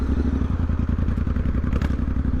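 Moto Nautilus motorcycle exhaust rumbling close and loud during a ride around London, a steady rapid pulsing throb with no talk.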